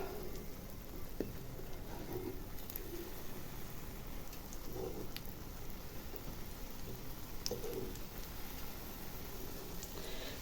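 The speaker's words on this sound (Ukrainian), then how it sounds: "дощ мрячить" Steady light drizzle patters continuously with a soft hiss in the countryside, while faint bird coos and chirps sound occasionally in the background.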